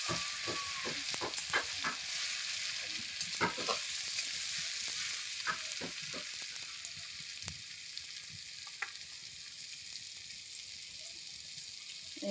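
Ginger fries gently in oil over low heat, giving a soft, steady sizzle broken by irregular scrapes and clicks of stirring, heard close and without talk.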